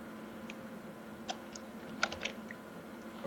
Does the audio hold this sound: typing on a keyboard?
yes